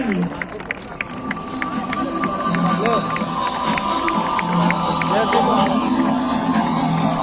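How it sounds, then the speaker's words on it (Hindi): An audience at an award ceremony in Lucknow cheers and claps loudly and continuously, with whoops and crowd babble swelling throughout. "एक बार जोरदार तालियां हो जाए आनंद जी के लिए"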